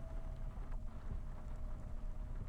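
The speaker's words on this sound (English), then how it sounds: "and the sound of the rain as well." Steady rain falling in the rainy neon city of the video game Cloudpunk, a continuous soft hiss and patter with low rumbling ambience underneath, with no talking.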